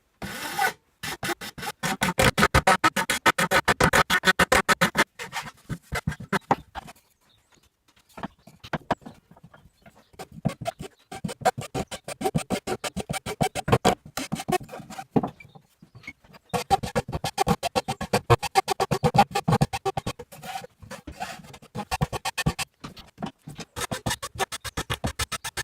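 A hand file rounds over the edges of a wooden table saw insert clamped in a vise, making loud, fast, rhythmic rasping strokes in long runs broken by short pauses.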